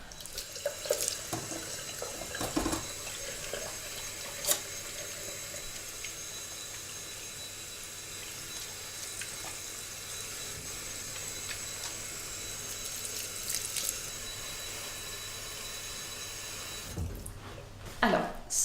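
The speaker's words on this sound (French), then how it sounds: "Je vais aller me laver les mains." Tap water runs steadily into a sink for handwashing in a home care setting, a continuous splashing rush lasting throughout, with occasional louder clatters and drips near the start and end.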